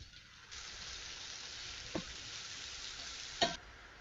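Sausage sizzles in a pan with onion and garlic, a faint, steady frying hiss marked by two soft clinks or stirs.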